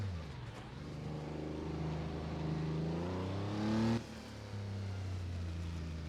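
A race car engine in Assetto Corsa on the Targa Florio road course in Sicily revs up through rising gear pulls, briefly dips at a shift, then keeps droning, heard from on board with no talking.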